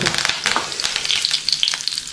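Curry leaves dropped into hot coconut oil crackle and sizzle sharply up close, with uneven pops and spits over a steady frying hiss.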